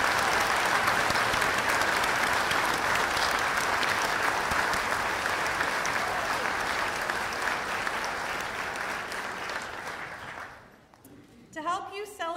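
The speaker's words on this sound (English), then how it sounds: "Let's give our orcas a round of applause." Audience applause fills the hall at a veterinary white coat ceremony, dense and sustained for about ten seconds before fading out, with a voice beginning to speak at the very end.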